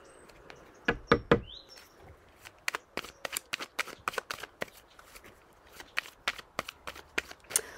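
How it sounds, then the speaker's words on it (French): Tarot cards being shuffled and drawn, a quick ruffle followed by a series of soft, sharp card snaps and taps heard close and fairly quiet. "on va tirer une autre carte."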